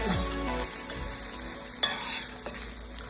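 Rice and crushed garlic-cumin seasoning frying in a pan, stirred with steady scraping and a soft continuous sizzle, close and fairly loud, with one sharper clatter midway.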